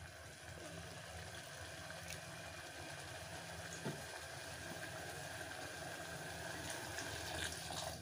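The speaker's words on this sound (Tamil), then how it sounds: "தேவையான அளவு தண்ணி ஊற்றுறோம்" Water steadily poured into a pressure cooker while making bitter gourd kuzhambu, a continuous close splashing fill with a low background hum and no talking.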